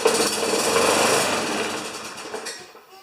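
A Tecumseh lawn mower engine fires and runs briefly with a loud, rapid rattling buzz, then winds down and fades within a few seconds.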